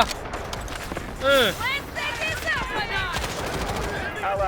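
Rapid SMG bursts in the Delta Force video game, clusters of sharp repeated shots rattling off amid other game effects, with a player talking over the firing.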